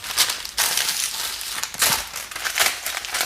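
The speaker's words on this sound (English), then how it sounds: "get a length of baking parchment," Baking parchment crinkles and crackles as a length of it is handled and folded for a cartouche, close and fairly loud in repeated crumpling bursts.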